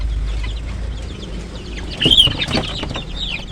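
Chickens cluck and stir close by while their wings and tails are being trimmed, soft scattered clucks and rustling building to a brief louder burst of fowl calls midway.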